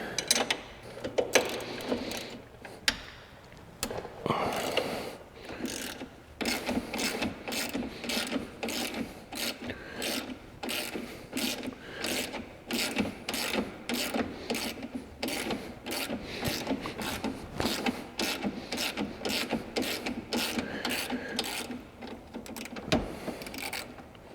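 A hand ratchet with a 15 socket clicks in rapid, steady strokes while a bolt is removed from a Polaris Sportsman 850 during track installation, close and continuous with no talk.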